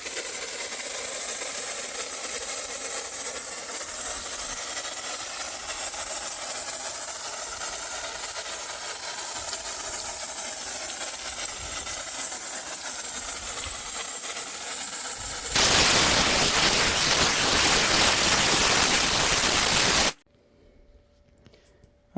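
Marolex foamer sprays Bilt Hamber Touch-less foam in a long, loud, continuous hiss that intensifies into a harsher burst of spray before cutting off abruptly into near silence.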